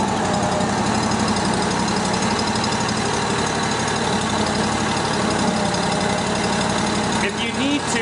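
A 3-D profiler laser screed engine runs steadily in auto mode during testing, a loud continuous mid-pitched idling drone with vibration throughout and a faint voice near the end.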